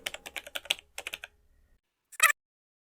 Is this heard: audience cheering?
no